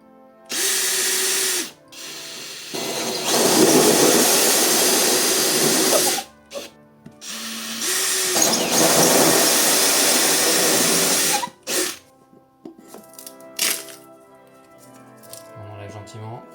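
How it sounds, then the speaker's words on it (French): A power drill driving a hole saw into a stone wall runs in several long, loud, close bursts with pauses between them, then gives way to short scraping knocks and clatter at the end. "La scie cloche, on va y aller tout doucement pour pas éclater après ma scie cloche sur le mur de pierre."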